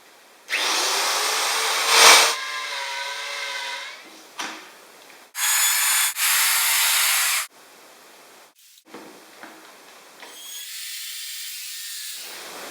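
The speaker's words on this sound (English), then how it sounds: "And fire up the router and away you go." A wood router cutting with a jig while making a ski rack: loud whining bursts as the router spins up and cuts, stopping and restarting several times with short quiet gaps between.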